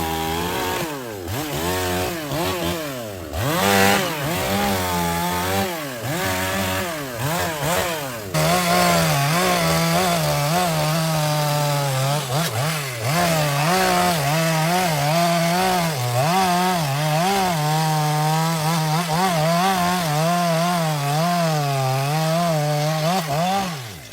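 A chainsaw cuts into a large, tall kapok tree during felling, its engine revving up and down in repeated surges before settling into a sustained loud whine, close and alone without talk.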